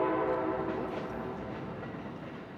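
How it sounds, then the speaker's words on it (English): An Amtrak train passes nearby with a loud rumbling roll and rail clatter that fades gradually as it moves away, with no talk over it. "Oh, and I saw the Amtrak train"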